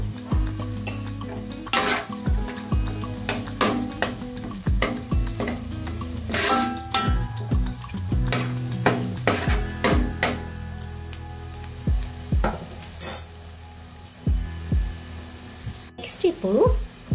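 Gobi rice ingredients sizzle and stir-fry in hot oil in a pan, with repeated scraping and clanking of a spoon against the pan, rhythmic tossing strokes close by and steady frying hiss underneath.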